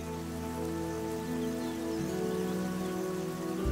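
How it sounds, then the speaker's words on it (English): Rain falls steadily in the wild, a dense, even hiss of drops pattering on surfaces that continues unbroken, with low sustained music underneath. "As the rain falls, tiny rivulets fill up and merge."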